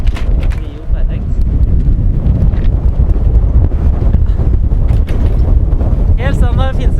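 Strong wind buffets the microphone on the open Hardangervidda plateau in Norway, a loud, continuous roaring rush with gusty swells, while a person speaks briefly near the end.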